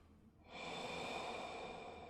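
Heavy breathing from a horror-style video game title screen, a single long, close, breathy exhale that swells in and holds steady.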